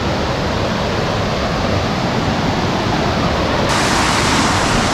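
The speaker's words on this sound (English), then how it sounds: "It's called Mountain Waterfall" Mountain Waterfall on Koh Samui, Thailand, roars as a steady, loud wash of falling water filling the whole scene without pause, growing slightly brighter near the end.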